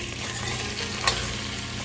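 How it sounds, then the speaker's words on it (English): Apple juice is stirred into apple cobbler filling in a pot, a steady wet bubbling sizzle with one brief sharp clink of the spoon, close and continuous. "We're gonna stir in the apple juice, okay?"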